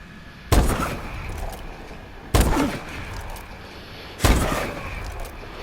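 Three loud, sharp MORS rifle shots fired in Call of Duty Advanced Warfare on the Biolab map, evenly spaced about two seconds apart, each a heavy crack with a short decaying tail over a low ambient bed.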